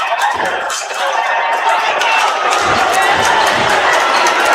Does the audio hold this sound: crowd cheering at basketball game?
yes